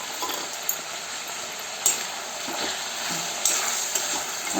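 Pumpkin curry being stirred in a pan, a steady soft sizzle with a few sharp scraping clicks of the spoon against the pan, close and alone without speech.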